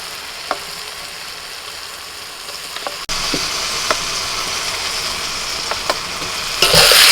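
Fried potatoes go into a simmering spice masala that is releasing its oil. A soft sizzle swells into a louder, denser frying hiss partway through, with occasional crackles and a stirring clatter near the end.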